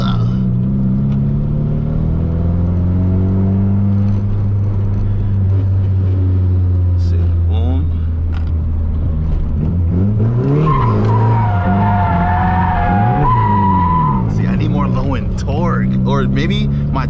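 A drift car with large 18-inch wheels, engine droning loud and close, its pitch climbing and falling through repeated revs while tires squeal during the slides.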